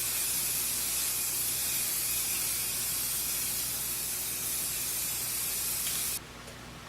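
An aerosol can sprays paint onto a model rock for a habitat display in one continuous hissing burst, close and steady, before cutting off abruptly near the end and leaving quiet room tone.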